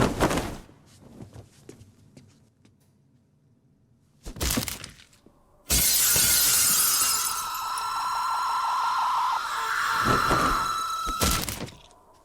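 Window glass shatters as a horror-film sound effect. A short crash comes first, then another burst, then a long, loud spray of breaking and tinkling shards lasting several seconds, with a final sharp crash near the end.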